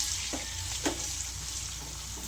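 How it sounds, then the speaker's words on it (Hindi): Five or six slit green chillies fry in a pan, giving a quiet, steady sizzle with a couple of brief spatula scrapes, close by and with no talking. "अब इसमें है ना मैं हरी मिर्चियाँ डाल रही हूँ।"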